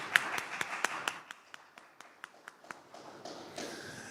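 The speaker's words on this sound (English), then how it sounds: "let's give them a round of applause." A small audience at a city hall landlord education event gives a round of applause: sparse, distinct hand claps that start crisp, then thin out and blur into a faint, scattered patter.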